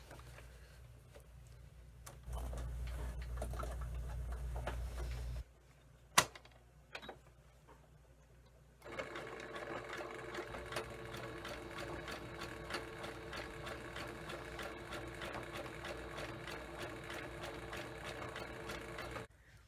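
A sewing machine zigzag-stitches back and forth across a fabric patch covering a hole. After a low hum and a few clicks, a rapid, steady, rattling stitch sounds up close for about ten seconds, with no voices.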